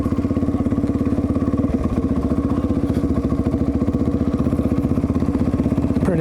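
Trials motorcycles run steadily nearby, a loud, continuous low engine chug with a rapid pulsing rhythm and some clatter, with no talking.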